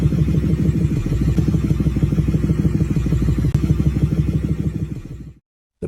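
A motorcycle or car engine runs with a rapid, even, chattering pulse of the piston moving up and down, loud and steady for about five seconds before it cuts off abruptly.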